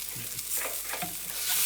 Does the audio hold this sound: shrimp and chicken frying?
yes